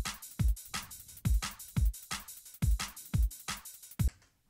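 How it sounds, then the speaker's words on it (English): Drum and bass beat at 175 BPM, punchy kicks and snappy snares with ticking hats in a fast syncopated pattern, about eight strong hits over four seconds, ending abruptly. "So the drum and bass one sounds kind of like this."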